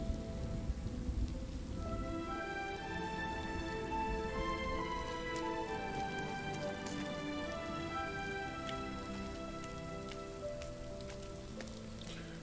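Steady rain falls on surfaces in the video game Rime, with scattered drops, soft and continuous, with a faint musical background.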